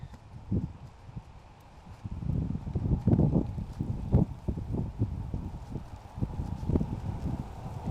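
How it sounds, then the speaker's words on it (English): Gusty wind buffets and rumbles against the microphone on a golf course, rising and falling in uneven bursts with a low rushing roar throughout. "it was quite a windy day here on the first day of this tournament"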